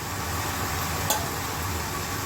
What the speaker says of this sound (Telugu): బంగాళదుంప ముక్కలు వేస్తున్నాను.